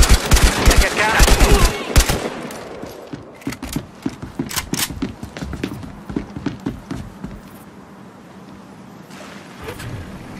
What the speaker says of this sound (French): quelqu'un te tire